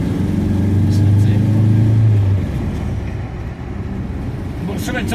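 A Ford Zephyr MKIV V4 drives along with a slipping clutch, the engine droning and rising in a sustained hum before easing off, heard from inside the car.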